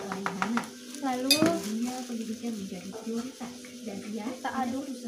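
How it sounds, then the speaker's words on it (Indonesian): Utensil scraping and clinking in a bowl while a mashed tofu mixture is stirred slowly with tapioca flour for tofu churros, heard under continuous speech. "kita aduk pelan-pelan supaya nggak berantakan"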